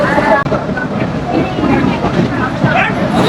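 A Mongla-bound commuter train rumbles along the rails with a loud, close, continuous roar and faint clatter from the carriages, and voices talking over it.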